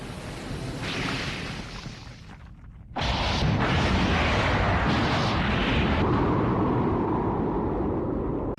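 A huge explosion in the Godzilla 2000: Millennium film as Godzilla's atomic breath destroys the alien kaiju Orga: a rumbling buildup, a brief drop, then a loud sustained roaring blast that carries on for several seconds.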